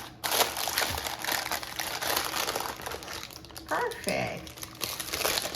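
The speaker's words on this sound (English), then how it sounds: "this parchment paper, it's so easy to lift it out and separate it" Parchment paper crinkles and rustles loudly up close as a slab of two-ingredient microwave fudge is lifted out of its pan, with brief speech near the end.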